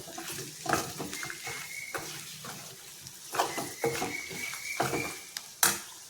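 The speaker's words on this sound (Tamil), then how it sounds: "இதை ஒரு நிமிஷம் கிண்டி விட்டுக்கோ" Spicy garlic chutney is stirred in a pan, with intermittent scraping and clinking of a spoon against metal over a soft sizzle, quiet and close with no talking.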